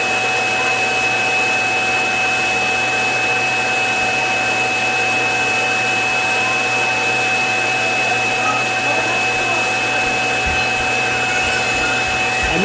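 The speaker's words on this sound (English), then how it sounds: "Emptying dust bin." The self-emptying dock of a Roborock S7 robot vacuum empties its dust bin with a loud, steady suction roar and a sustained whine that holds unbroken from start to finish, with no voices.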